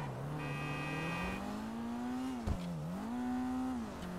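A Maibatsu Penumbra FF engine in GTA Online holds at the rev limiter, a steady buzzing whine that wavers slightly up and down with a brief click midway, fairly quiet and with no voices.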